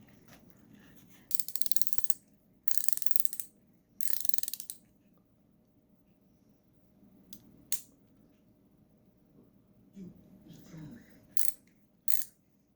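EZ Red spline-drive ratcheting wrench from a WR5ML set clicking in several quick bursts of fine ratchet ticks, close and crisp, with quiet pauses and faint handling noises between.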